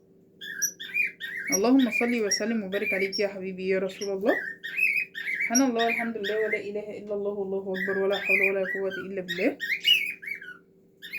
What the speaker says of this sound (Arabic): اسفة على صوت العصافير